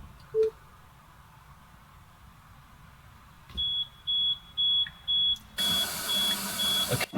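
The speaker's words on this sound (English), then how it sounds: "it sounds like it does a beeping noise and then plays some random heavy metal maybe at full volume" A Tesla Sentry Mode alarm sounds near the parked car: a faint tap, then a steady run of evenly spaced loud electronic beeps that turns into a harsh, broadband blaring burst at the end.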